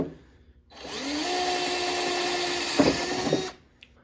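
A power drill bores through a snowmobile track and into blue plastic on a 2003 Yamaha Viper 700, whining steadily for about three seconds with a brief rough grinding near the end, close and loud, no talk.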